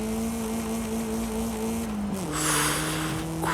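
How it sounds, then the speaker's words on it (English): A turbocharged 1980s Volkswagen Golf GTI in the Forza Horizon 5 racing game, its engine holding a steady high drone with a gear-change dip, then whooshing boost and a rising note. "that turbocharged engine provides a lot of boost"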